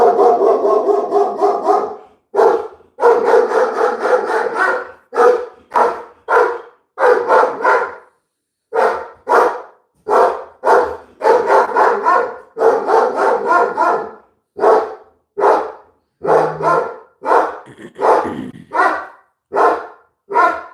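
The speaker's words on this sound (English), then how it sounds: "That's my dog." Dog barking repeatedly indoors during a live tarot reading, loud bursts in a steady series of rapid barks with short pauses over about twenty seconds, close to the microphone.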